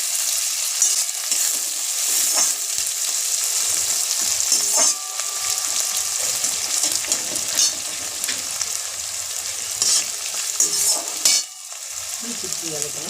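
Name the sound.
onions frying in a pan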